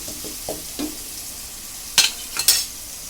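Dried prawns and drumstick curry fry in a pan, a low steady sizzle with a few soft stirring scrapes and two sharper metallic clinks near the end, close and unaccompanied by speech.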